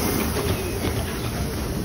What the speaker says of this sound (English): This is the train in question.